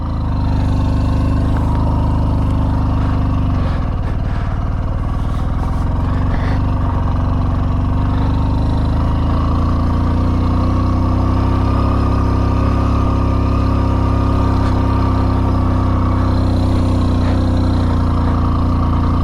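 A Hero Splendor motorcycle labours up a steep mountain road in first gear. Its engine drones loud and close, strained and steady throughout, with no speech.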